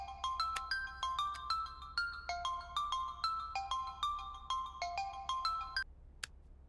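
A mobile phone plays a bright melodic ringtone for an incoming call, repeating its pattern for about six seconds before stopping, followed by a single short beep.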